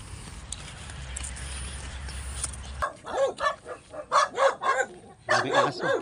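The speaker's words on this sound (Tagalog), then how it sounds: "Daming aso." Several dogs bark in sharp, repeated bursts near a rural river path, breaking in after a stretch of steady outdoor hiss and a low hum.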